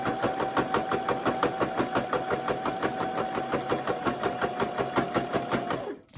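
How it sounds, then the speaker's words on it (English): A sewing machine runs steadily, stitching through three layers of Cuddle fabric for a baby blanket, with a fast, even mechanical thump and a constant motor whine before it stops abruptly. "I don't think I've ever sewn this many layers because I have 3 layers of Cuddle"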